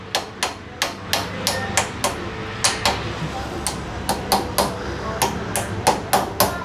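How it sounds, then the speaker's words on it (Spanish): A hammer taps a steering bearing race into a Gixxer 150 motorcycle, a steady series of about twenty sharp metallic knocks in an even rhythm, close and fairly loud, with no one talking. "Entonces la vamos a iniciar con el martillo."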